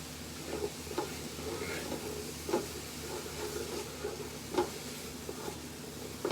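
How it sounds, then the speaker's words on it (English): Vegetables steaming and sizzling in a pan, a soft continuous hiss with faint clinks of stirring at intervals, no talk. "Vegetables steaming up now, and the sizzling's done."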